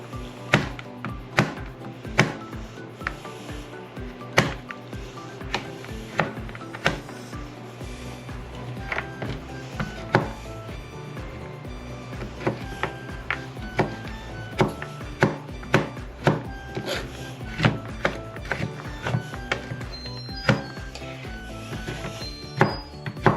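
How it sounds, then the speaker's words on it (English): A knife chops peanut butter cups on a wooden board, a long run of sharp, close, fairly regular thuds and taps with brief pauses and no talk. "let's chop up these peanut butter cups"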